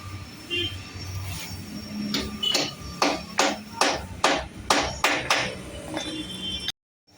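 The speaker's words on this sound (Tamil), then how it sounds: "அந்த பீஸை ஃபுல்லாக அடித்து உள்ளே தள்ளியாச்சு" A hammer drives a piece into a Bullet motorcycle side stand during a repair: around nine close, ringing metallic blows in a steady rhythm, roughly two per second, over faint background noise.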